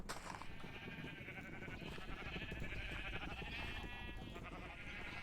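Blocky Minecraft sheep, including light gray ones, bleat repeatedly in a quiet, steady stream of wavering calls over a faint background hum.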